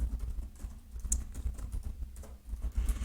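Computer keyboard keys clatter in quick, uneven bursts of soft clicks at close range during an SQL database tutorial, with brief pauses between runs of keystrokes.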